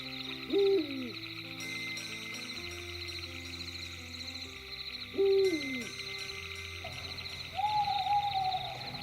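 An owl hoots twice, slow and clear with a long pause between calls, over a steady background drone, and a longer wavering call follows at the end.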